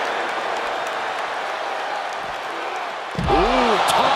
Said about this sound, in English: A deafening cheer from the WWE Universe is reverberating around us